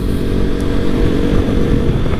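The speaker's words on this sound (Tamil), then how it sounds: "அதுவும் இந்த மாதிரி கிராமத்துக்குள்ளே ஒரு நல்ல லவுடான எக்ஸாஸ்டோட ஒரு பைக்கு" A motorcycle with a loud exhaust rumbles steadily up close on a hill ride through a village, the engine drone continuous and heavy with wind noise.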